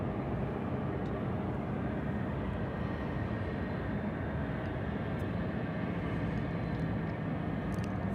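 Alaska Airlines Boeing 737-900 airliner at DFW Airport, a steady broad jet engine roar at moderate distance that holds evenly throughout.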